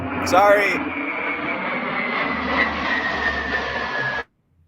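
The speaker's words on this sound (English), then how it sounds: "I got a plane above me." An airplane passing overhead, a loud steady engine drone with a faint whine that holds for about four seconds before cutting off abruptly.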